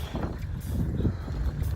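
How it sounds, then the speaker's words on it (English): Gusty wind buffets the microphone during a bike ride on a nature trail. The low rumble is loud and constant and fills the whole short stretch. "Windy day, but we still gonna get this work in."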